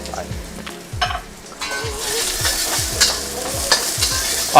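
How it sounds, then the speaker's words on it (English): Garlic, ginger and green onion whites stir-frying in a wok, a loud continuous sizzle with rapid rhythmic tossing and scraping strokes, close up and without talk. "that's my garlic, ginger, and today are whites, so the whites of our green onions going into the wok"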